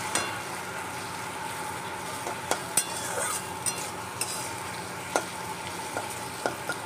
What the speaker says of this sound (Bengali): এটা এখন ভাজবো